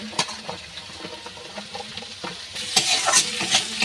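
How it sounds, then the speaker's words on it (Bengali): Onions frying in a pan with garlic hiss and crackle steadily while a spoon stirs them, giving intermittent scraping taps; the sizzle swells louder and brighter toward the end. "পেঁয়াজগুলো আমি একটু ভালো করে ভেজে নেব, নিয়ে তারপর টমেটোটা দেবো"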